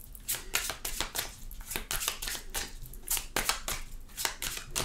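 Tarot cards shuffled by hand, a steady run of close, crisp riffling and papery slaps repeating in quick bursts with no voices.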